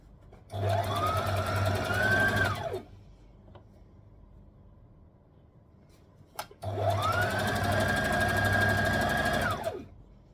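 A sewing machine stitches a knit tulip tee in two sustained bursts with a quiet pause between them, the motor whirring up and winding down each time, close and clear with no talking.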